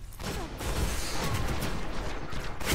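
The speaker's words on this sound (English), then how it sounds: "Try to come up behind him with the fusion rifle." Fusion rifle gunfire in the Destiny video game, a dense sustained burst of loud charged blasts and crackling impacts that fills nearly three seconds with no pause.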